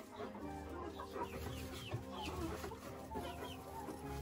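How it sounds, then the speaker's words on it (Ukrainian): A young laying hen clucks near her nest box, soft repeated clucks and murmurs close by, with no voices present. "молоденька курочка несеться, і її привчали до гнізда"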